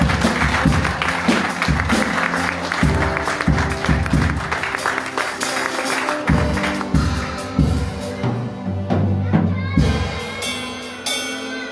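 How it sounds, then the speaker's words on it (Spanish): A church congregation claps loudly at the end of a prayer, with rhythmic, uneven bursts over music-like tones that fade toward the end. "En un aplauso fuerte"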